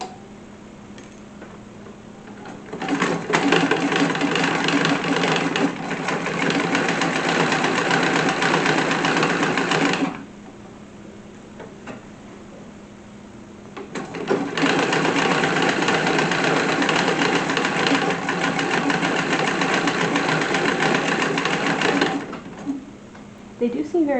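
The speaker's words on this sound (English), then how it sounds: "and now all I have to do is stitch them." Sewing machine stitching pockets onto a 1910s World War I canteen service dress, running in two long, loud steady bursts of several seconds each with a quiet pause between.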